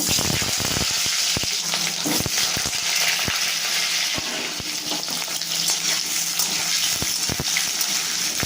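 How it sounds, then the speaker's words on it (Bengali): Potatoes frying in hot oil alongside cabbage in a Bengali home kitchen, a loud steady sizzle with scattered sharp crackles and stirring clicks, no talk. "আলুটা একটু হালকা ভেজে আমি তুলে নেব"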